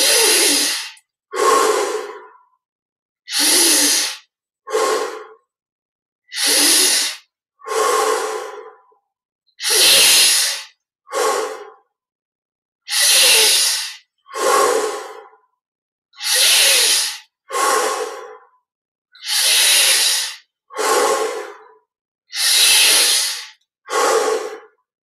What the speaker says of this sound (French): Inspire par le nez, expire par la bouche.